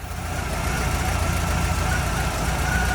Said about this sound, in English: I have to pull this thing outside and get it running now too.